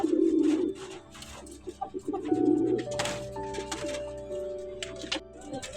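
Domestic pigeons in a loft give soft, rolling coos, repeated in several bursts, near and clear, with faint shuffling and a few clicks in the background.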